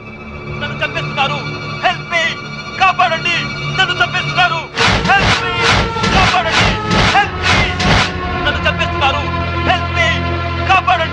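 A burst of loud, repeated human screams plays back from a tape recording in a Telugu film scene, rising suddenly after quieter music and continuing in rapid pulses before fading into the score.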